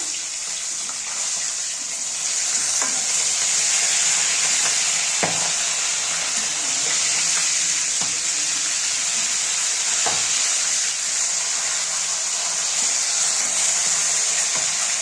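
Rupchanda fish frying in hot oil in a home kitchen, with a steady, bright sizzle throughout and a few soft knocks and scrapes as the pieces are turned over.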